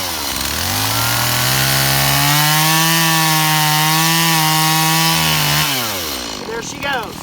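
A chainsaw cuts through a tree to fell it, its loud, close engine rising into a sustained high roar in the cut before the revs drop off near the end.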